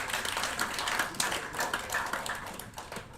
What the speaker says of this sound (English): Let's clap for us.